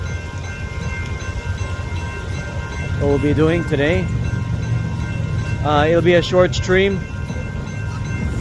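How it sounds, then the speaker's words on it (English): A train rumbles steadily in the far distance as it approaches near a convention center, a low continuous drone running under a man's nearby speech. "That's the train in the far background coming in"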